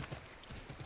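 Soft horse hooves clip-clop in a loose rhythm from a horse in Assassin's Creed III, faint and somewhat distant over low background ambience.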